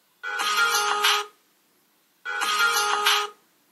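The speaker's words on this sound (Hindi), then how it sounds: "वॉच का फाइंड माय फोन एकदम परफेक्टली काम कर रहा है, अगर आपका फोन साइलेंट में भी होगा तब भी बजेगा" A smartphone set to silent rings, set off by a smartwatch's find-my-phone feature: two clear bursts of about a second each, separated by a short silence, loud and close with no talking.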